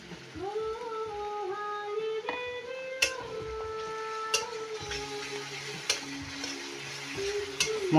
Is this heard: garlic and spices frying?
yes